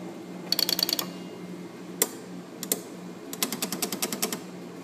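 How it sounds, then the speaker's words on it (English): A relay ratchets the stepping switch of an Arduino-controlled rotary phone, giving crisp mechanical clicks in quick bursts of five or six, separated by single isolated clicks and quiet hum, with a longer run of evenly spaced clicks at the end. "This one is advances, ratchets forward the switch."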